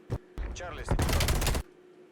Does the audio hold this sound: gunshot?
yes